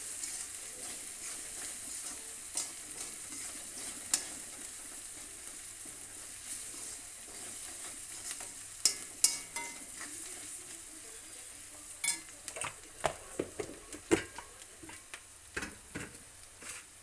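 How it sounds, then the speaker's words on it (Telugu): Ingredients frying in a pan, a soft continuous sizzle with occasional sharp clicks and scrapes of stirring, close and fairly quiet, building to denser stirring taps in the latter half. "ఇది కొంచెం పచ్చివాసన పోయేంత వరకు వేయించుకుందాం దూరగా."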